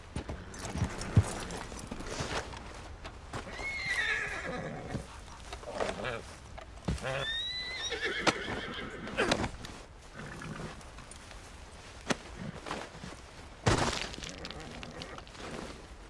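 Horse hooves clip-clop through a Red Dead Redemption 2 game scene, with brief whinny-like tonal calls and voices talking over the steady clatter.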